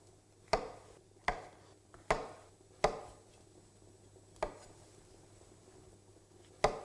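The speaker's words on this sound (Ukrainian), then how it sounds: "Ріжемо на чотири частини." Knife chopping royal chestnut champignon mushrooms into quarters on a cutting board, six crisp separate chops spaced unevenly, close and alone.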